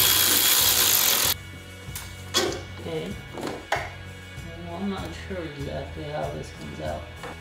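A ratchet with a deep socket clicks in quick bursts while loosening a 13 mm bolt in the engine bay of an MK7.5 VW GTI, close up with a steady hum behind it.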